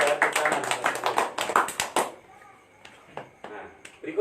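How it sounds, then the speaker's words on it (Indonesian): A seminar audience claps in a quick burst of dense handclaps that ends abruptly, followed by a few scattered isolated claps and taps. "Luar biasa tepuk tangan."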